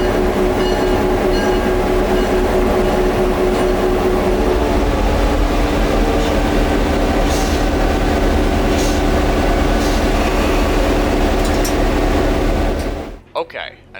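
Diesel locomotive CF7 number 204 rumbles steadily and loudly up close, its heavy engine drone continuous for a long stretch before cutting off abruptly near the end, with voices faintly underneath.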